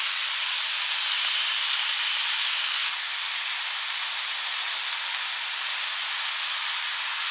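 Three chopped tomatoes go into a hot pan for a chicken pepper roast, setting off a loud, even sizzle that drops slightly a few seconds in and then continues steadily.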